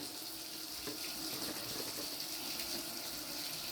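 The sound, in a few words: water running from a tap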